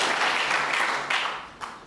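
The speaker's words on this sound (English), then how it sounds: "encouragement from the crowd" The crowd at the 2020 World Championship Snooker Final applauds a pot, a short burst of dense, steady clapping that gradually thins out, with a couple of late claps standing out near the end.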